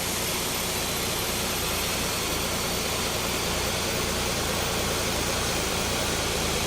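ToLiss A320neo airliner engine spooling up on start in X-Plane 12, a steady dense roar of broadband whooshing noise, loud and constant with no talk over it.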